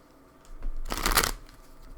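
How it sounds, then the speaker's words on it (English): Tarot cards are shuffled by hand in a brief riffling burst that builds and fades over about a second, quiet and close. "But while I talk, I'm just gonna shuffle to make sure it's truly random."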